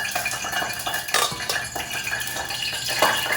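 A ladle clinks and rattles against pots during noodle cooking, giving a few close metallic knocks over a steady kitchen background with no speech.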